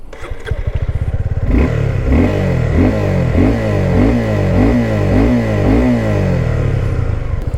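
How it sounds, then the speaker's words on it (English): A Suzuki Gixxer 250 motorcycle engine idles with a rough putter, then its exhaust revs up and down in repeated, rhythmic throttle blips, loud and close. "let's hear the exhaust sound."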